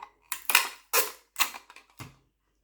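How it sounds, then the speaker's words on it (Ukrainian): Several quick rasping tears of adhesive tape pulled off a roll while taping a skirt pattern, five short bursts spaced roughly half a second apart, close by with no talking. "Прикладаю, дивіться, ось так і підклею скотчем."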